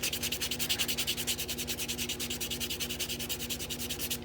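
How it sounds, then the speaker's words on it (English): A hand-held nail buffer rubs rapidly over gel nails in quick, even back-and-forth strokes, close and steady with a rhythmic scratchy texture and no talking. "I just use the buffer"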